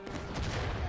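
A burst of musket gunfire in the Civil War shooter War of Rights, several overlapping shots cracking close together in a short, loud volley.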